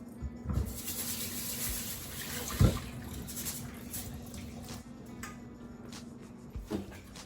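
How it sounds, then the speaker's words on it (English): Rice rinsed under running kitchen water, a faint steady trickle with occasional soft knocks of a bowl or pot, quiet and without speech. "Starting with 1 cup of rice, gonna rinse it really well."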